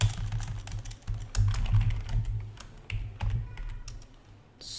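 A computer keyboard typed on at close range while entering a Linux command, with quick, irregular clusters of keystrokes and short pauses between them, and no talking.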